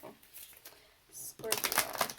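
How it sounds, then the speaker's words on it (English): Tarot cards are shuffled close up: soft rustling at first, then a sharper, louder flurry of riffling in the second half, with a quiet voice present. "One more shuffle."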